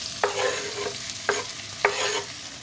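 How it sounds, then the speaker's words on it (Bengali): Onion and tomato fry in mustard oil in a pan, a steady sizzle broken by three distinct scraping stirs spaced about a second apart. "এবার আমি পেঁয়াজ এবং টমেটো একসাথে দিয়ে দিচ্ছি পুরোটা"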